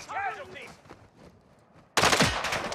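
Burst of automatic gunfire in the Call of Duty DMZ game on Ashika Island, erupting loud and dense near the end after a stretch of quieter ambience and a brief voice.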